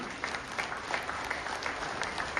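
Steady audience applause at a sports event, many hands clapping evenly in a continuous crowd wash heard from a little distance.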